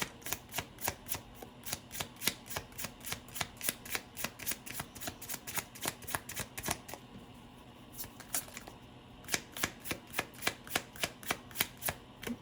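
Tarot cards are shuffled close by in a quick, rhythmic run of crisp riffling slaps, broken by a short pause before the shuffling resumes.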